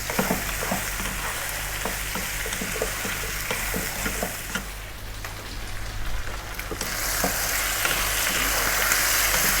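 Food sizzles steadily in a pan over medium heat for a Middle Eastern beef or lamb dish, a dense close crackle with occasional stirring scrapes, no talk.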